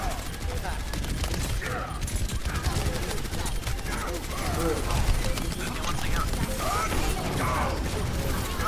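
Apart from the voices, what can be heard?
turrets firing in the video game Overwatch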